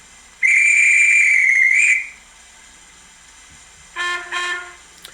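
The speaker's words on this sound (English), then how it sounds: "then F11 should give us a guard whistle." A model train's sound-effect guard whistle gives one long, shrill, steady blast lasting about a second and a half, followed after a pause by two short, lower horn-like toots, presumably the driver's response.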